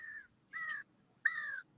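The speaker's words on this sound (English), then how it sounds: "All right, Coach Pat, we hear the birds chirping in the back and all," A crow caws three times, short harsh calls spaced about half a second apart, faint and distant in an otherwise quiet outdoor background.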